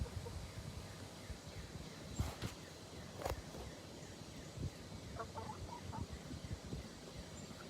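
Backyard chickens cluck and murmur close by in a steady, busy chatter, with a few sharper squawks and brief clucking bursts rising over soft scratching and movement in the coop.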